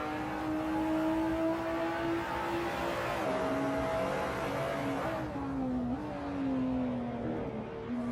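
A race car engine in a sim racing game at Imola drones at high revs, its pitch climbing and dipping through gear changes, loud and steady throughout with no talking.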